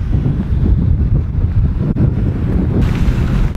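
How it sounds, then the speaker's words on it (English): Heavy wind rumbles and blasts against the microphone on a bike ride on the Hincapie climb, a dense low roar that stays loud throughout. "It's still windy."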